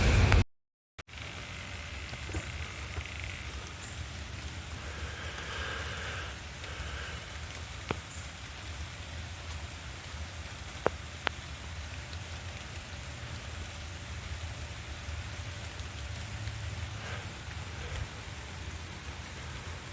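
Steady rain falls outdoors in a continuous even hiss, with a few faint clicks and small knocks scattered through it.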